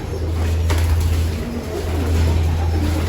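Pigeons cooing in a loft, low soft coos repeating over a steady low hum, with a faint passing vehicle sound in the background and no talking.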